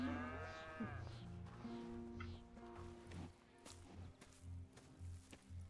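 Cows in Red Dead Redemption 2 moo at a farm, one long, low lowing call near the start followed by softer moos and farmyard bustle under faint game ambience.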